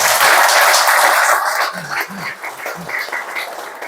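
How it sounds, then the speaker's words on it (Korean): Applause from a church congregation at a revival association inauguration, loud and dense at first, then thinning and fading with a few low voices and isolated sounds beneath. "우리 한번 박수로 위로해주십니다."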